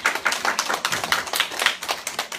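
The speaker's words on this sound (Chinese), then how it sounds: "我们再给玉馨姐一个掌声" Audience claps at a gathering in a Taichung classroom, a short run of uneven hand claps from a small group, moderately loud and close, with no talk over it.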